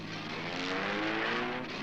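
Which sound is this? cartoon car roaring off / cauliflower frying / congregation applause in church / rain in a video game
cartoon car roaring off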